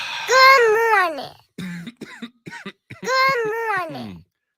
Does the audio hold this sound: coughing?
yes